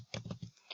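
Quick bursts of typing on a PC computer keyboard, several close, soft clicks and taps in an uneven rhythm, heard alone without any talking.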